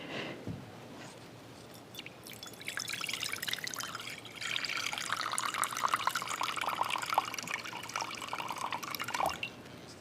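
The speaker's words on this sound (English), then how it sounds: "Hold that glass and just hold it up over the bowl and just slowly pour it in." Water slowly poured from a glass into a bowl during a church service, starting with a few faint drips, then a soft, continuous trickling splash for several seconds that stops near the end, heard close and alone.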